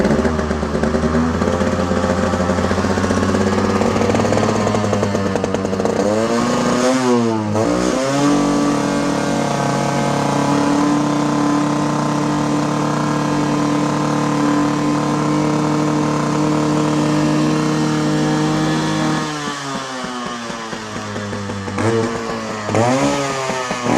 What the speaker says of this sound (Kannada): 15 ದಿನ ಆದಮೇಲೂ ಬರೀ 4 ಕಿಕ್ಗೆ ಸ್ಟಾರ್ಟ್ ಆಗೋಗ್ಬಿಟ್ಟಿದೆ.